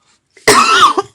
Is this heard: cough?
yes